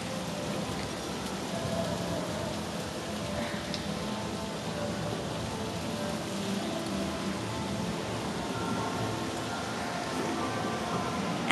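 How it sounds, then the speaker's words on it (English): Rain falls at night in Jeju in a steady, soft patter that stays even and continuous, a low wash of drops on surfaces with no voices over it. "And it's raining now, but it was nice all day since we were here."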